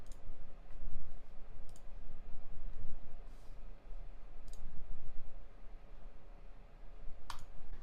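Several light, sharp computer mouse clicks land sparsely over a steady low hum as a browser tab is selected, quiet and close.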